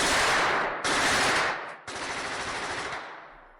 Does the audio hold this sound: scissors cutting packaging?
no